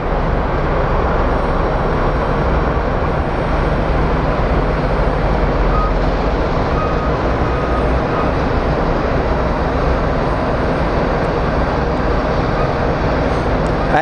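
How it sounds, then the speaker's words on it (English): An Envoy regional plane comes in to land at Phoenix Sky Harbor, a steady broadband jet roar that stays loud and even throughout, with no clear voices over it. "we can finally focus on the Envoy plane coming in"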